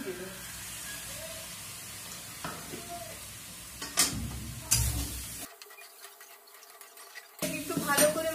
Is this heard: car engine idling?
no